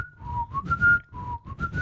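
A person whistles a short movie tune up close: a run of clear, sliding notes that rise and fall in brief phrases, heard alone with no talking.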